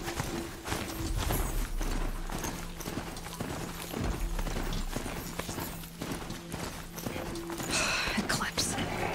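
Hooves of a horse-like robot mount clip-clop in the action game Horizon Zero Dawn, a steady walking rhythm across snowy ground, moderately close, under a persistent low hum and occasional game sounds with some talk.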